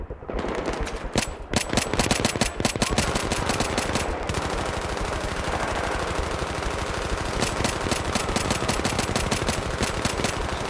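Sustained automatic gunfire in the Battlefield 3 video game, with dense rapid shots rattling almost continuously for the whole stretch, loud and close, over a constant background roar.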